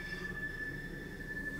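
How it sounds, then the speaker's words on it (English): A two-mile-long train rolls by with a faint, steady high wheel squeal held over a low rail rumble, heard from a distance with no talking. "Y'all hear the train?"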